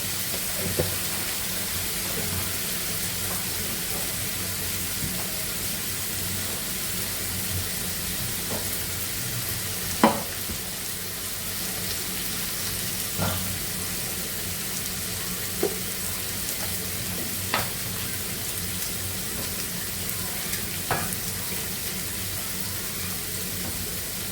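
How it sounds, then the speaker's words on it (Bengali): Spices with chili powder and salt fry in a pan with a steady, even sizzle, broken by occasional sharp clicks of a utensil stirring, with no talking. "ভালো করে ভেজে নেব"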